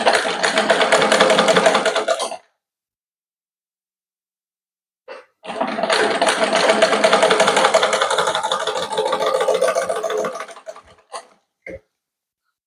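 A sewing machine stitches fabric for a puff sleeve in two bursts of fast, close whirring, a short run and then a longer one, separated by a few seconds of silence, followed by a couple of brief clicks.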